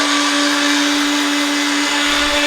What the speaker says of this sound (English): Turn the blender on, put that on puree.